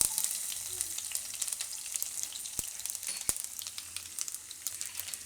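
Cumin and garlic sizzle steadily in hot oil for a Gujarati moong dal and ridge gourd dish, a close, bright crackling hiss with a few sharper pops.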